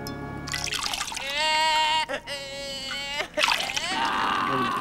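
Water is poured over a baby at a baptism, giving a close splash and trickle, while the infant cries loudly and keeps crying through and after the pour.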